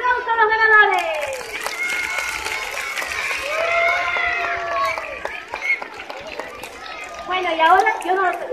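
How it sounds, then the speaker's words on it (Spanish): A crowd applauding winners at a school gathering, with scattered clapping mixed with loud children's cheering and shouting voices throughout, rising again toward the end. "¡Aplausos a los ganadores!"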